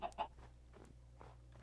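Chickens cluck in the video game Who Shot Sam, graveyard chickens, a few short soft calls at the start and then sparse faint clucks over a steady low background hum.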